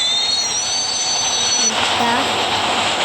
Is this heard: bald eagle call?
no